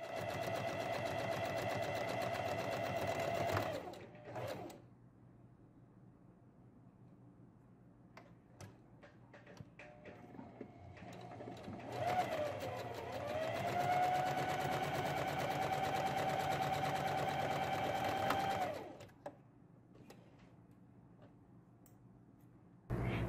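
A domestic sewing machine stitching a seam on a child's romper runs in two long, steady whirring bursts separated by quiet pauses with faint handling clicks; the motor is close and clear, with no speech.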